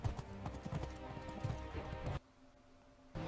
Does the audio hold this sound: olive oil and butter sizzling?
no